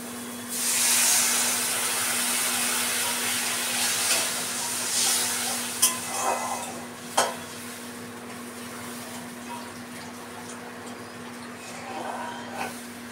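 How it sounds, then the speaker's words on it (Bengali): Water is added to spice masala in a hot pan for a light Bengali fish curry, giving a steady hiss and sizzle with a few soft clinks and stirring scrapes. "এখন আমি পরিমাণ মতো জল দিয়ে দিচ্ছি।"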